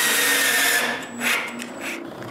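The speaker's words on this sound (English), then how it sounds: "Then using the block I made earlier, I find the screws placements and drill them." A power drill whirs close up as it bores screw holes through a wooden block for a homemade wooden bandsaw, a steady motor whine that dips and surges briefly before settling.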